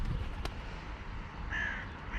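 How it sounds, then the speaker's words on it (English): A crow caws while chasing a hawk near a backyard feeding station. A sharp call stands out early, and a longer caw follows later, fairly distant over steady outdoor ambience. "We have a crow chasing"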